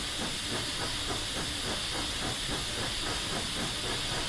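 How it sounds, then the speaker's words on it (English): A Rio Grande Southern steam locomotive in Train Simulator chuffs in a fast, even rhythm of exhaust beats over a constant loud steam hiss. "Sounds like he's chuffing, though."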